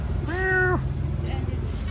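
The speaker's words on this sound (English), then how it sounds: "These are vicious Laotian attack cats." Cats meow at a buffalo dairy in Luang Prabang, Laos: one clear, drawn-out meow rises nearby, followed by a fainter short call, over steady low background rumble.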